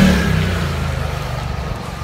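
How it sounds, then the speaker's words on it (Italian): A small three-wheeled scooter with two front wheels and one rear goes past close by, its buzzing engine steady and pulsing for about two seconds. "Un motorino con due ruote davanti e una dietro."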